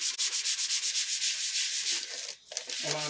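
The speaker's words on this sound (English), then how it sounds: "I'm going to sand this, just because I'm going to put paint on it, and I want it to get as much grip on this metal as I can" Metal surface being sanded by hand to give paint more grip, a steady rhythmic scratchy rubbing in quick repeated strokes, close and loud, with a brief pause near the end before it resumes.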